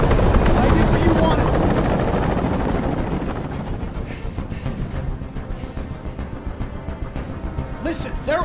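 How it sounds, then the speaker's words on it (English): A helicopter hovers overhead in the video game Detroit: Become Human, a loud thudding rotor roar that fades slightly and settles into a steady chopping pulse, with voices speaking over it. "Tell that helicopter to get out of here!"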